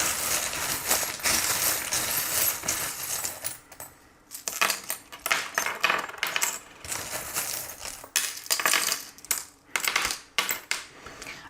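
Small metal charms clink and jingle as they are handled and sorted, a dense run of bright metallic rattles at first, then scattered separate clinks and short jangling bursts close to the microphone.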